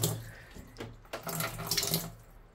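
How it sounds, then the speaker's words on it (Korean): Tap water splashing into a washing machine drum during cleaning, coming in a few irregular gushes and splashes, close and fairly soft. "여기 세탁기 안쪽을 닦아야 되는데 여기다가"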